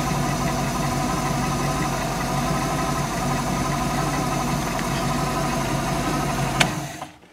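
A Tohatsu 5hp four-stroke outboard engine idles with a steady, close, loud rumbling drone and a slight knocking pulse. It cuts off abruptly near the end, followed by a brief click and quiet.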